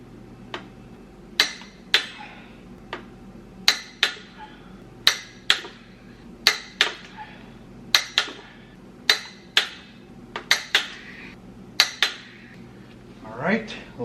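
Torque wrench tightening engine bolts to 60 foot-pounds on a K24 engine mounted on a stand: a series of sharp metallic clicks at uneven intervals, about a dozen over the span, close and fairly loud against a quiet background.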